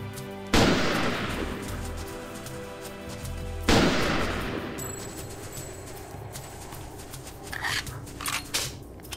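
Sniper gunfire in the video game Second Sight: two loud, sharp shots about three seconds apart, each followed by a long ringing decay, then quieter game ambience with faint clicks and a high tone.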